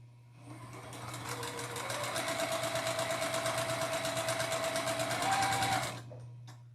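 A sewing machine runs steadily for about five seconds, stitching a diagonal seam across quilt strips of a fat quarter quilt with a rapid, even needle chatter. A constant low hum sits under it from start to finish.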